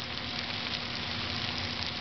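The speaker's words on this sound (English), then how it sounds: "I'm going to add the onions, and I'm going to saute these." Onions sauté in a pan for a Moroccan lamb stew with a steady, even sizzle and hiss, moderately loud and continuous, with no voices.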